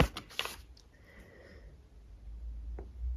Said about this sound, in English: every so often you can hear me sniff